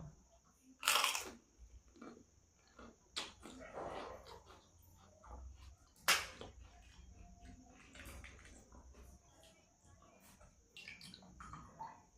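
Crunchy gupchup (pani puri) is bitten and chewed close up, with sharp cracks of the shells breaking followed by wet munching in an irregular rhythm.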